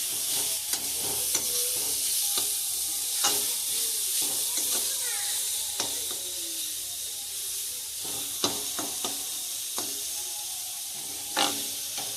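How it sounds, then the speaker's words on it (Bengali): Grated cauliflower stirred while it fries in a pan, a soft steady hiss under scattered light scraping and clinking of the spatula, close and moderate in level. "এই ঘিসা ফুলকপিটা আমি ঢেলে দিচ্ছি একটু নাড়াচাড়া করে দিচ্ছি"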